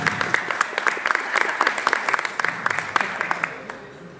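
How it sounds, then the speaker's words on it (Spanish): An audience at a conference on ethical technology use in sports law claps steadily, distinct hand claps close and moderately loud, tapering off toward the end. "Un aplauso para mi papá que está acá."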